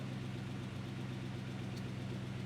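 A warmed-up 1949 Ford F1 pickup engine idles steadily nearby, a low, even rumble with a regular pulsing beat and no change in speed.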